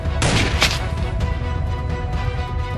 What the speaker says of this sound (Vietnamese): Sao lại có tiếng súng nhỉ?